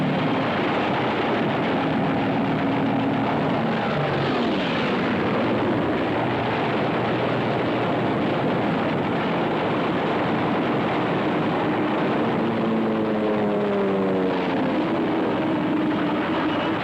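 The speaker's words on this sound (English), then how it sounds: "Japanese torpedo bombers." Japanese torpedo bombers fly through dense, continuous engine roar that rises and falls, with propeller tones sweeping up and down as aircraft pass close by during a Pacific attack; no voices.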